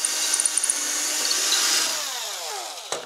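A hand drill bores a straight hole, a steady high whirring that bites into the material and slowly winds down, ending with a short sharp knock.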